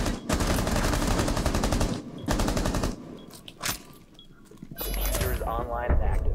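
Rainbow Six Siege gameplay with rapid automatic gunfire in loud bursts, including a longer burst at the start and another later, mixed with in-game effects while a player talks over it.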